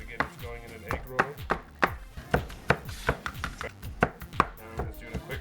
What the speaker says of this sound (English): I'm just going to keep chopping a little bit more, make sure it gets nice and small pieces